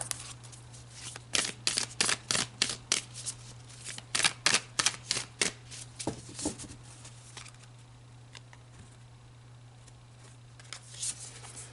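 Tarot cards being shuffled, crisp riffling flutters and slaps in quick irregular bursts, close and fairly quiet, over a low steady hum, with no talking.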